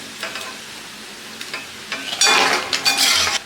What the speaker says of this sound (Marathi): असे व्यवस्थित आपले इथे पापड फुगत आहे ते तांदळाचे पापड आहेत